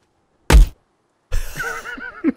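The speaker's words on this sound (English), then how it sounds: "Just smacking him in the forehead." An object smacks someone in the forehead with one sharp, loud thunk up close. After a pause, a muffled vocal reaction and a short knock follow.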